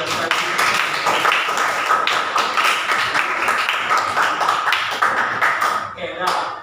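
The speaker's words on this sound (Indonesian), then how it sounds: "Tepuk tangan dulu, lancar sekali." A class claps for a student's fluent answer, with a burst of sharp, fairly close hand claps in an irregular rhythm, partly mixed with voices.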